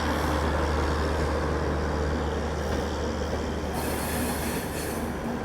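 Swatantrata Senani Express running on rails, a dense, loud, continuous roar of wheels with high squealing and a deep steady hum from onboard machinery, heard close and unbroken throughout.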